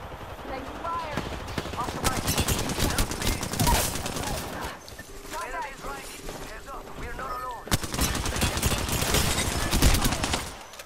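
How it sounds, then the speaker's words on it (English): Enemy gunfire rattles through a video game firefight, with dense bursts of automatic fire and heavy blasts almost throughout, alongside game voices and a short lull midway. "They're shooting at me."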